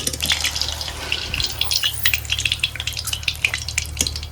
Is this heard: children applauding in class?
no